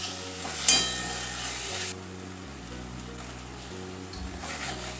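Poppy seed paste and grated coconut stirred in a pan with a little water, giving a soft continuous sizzle with faint scraping, brighter and louder for the first two seconds, then a quieter steady hiss.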